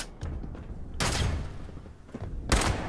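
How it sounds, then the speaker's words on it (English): Gunshots crack in Fallout 76, with two strong blasts about a second and a half apart and fainter scattered shots between them, close and punchy. "I'm hearing a lot of shots, but I'm not seeing a lot of enemies"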